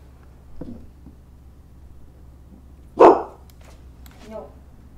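A dog barks once, loud and close, followed by a couple of fainter yips and whimper-like sounds against a quiet room.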